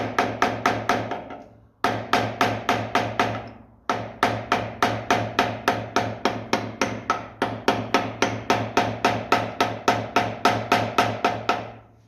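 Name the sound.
tapping on a 1955 Ferguson 20 tractor brake drum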